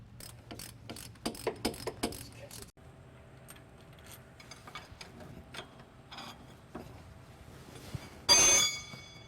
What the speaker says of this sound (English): remove the U-joint by taking out the retaining bolts, using of course our ratchet and socket.